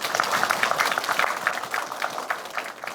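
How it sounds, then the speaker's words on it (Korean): Applause from a meeting of village leaders at a county development gathering, a steady patter of clapping hands running throughout at moderate volume, with no speech over it. "박수 한번 쳐주십시오"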